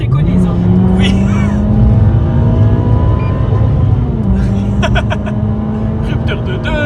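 Renault Clio 3 RS engine revving hard toward its 8000 rpm rev limiter, a loud sustained high-pitched howl that climbs and holds, close to the listener throughout.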